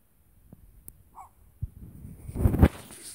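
Dog at an animal shelter or sanctuary in Slovenia gives a few short scattered barks and whimpers, faint then louder toward the end, with no talking.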